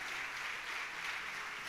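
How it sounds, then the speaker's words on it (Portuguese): A church congregation at an evening service applauds in a brief, steady wash of clapping that sounds slightly distant and fairly faint. "Você pode aplaudir o Senhor Jesus Cristo?"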